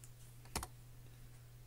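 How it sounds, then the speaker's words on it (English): Quick double keystroke on a computer keyboard, close and crisp over a faint steady hum, with quiet room tone before and after. "I'm going to type live."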